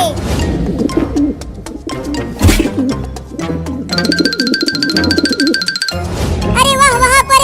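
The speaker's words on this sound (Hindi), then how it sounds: "वहाँ पर एक कबूतर जमीन पर चल रहा है।" A cartoon pigeon coos in repeated soft calls, followed by bright chiming electronic tones and a twinkling musical sting, all loud and close, with little else around them.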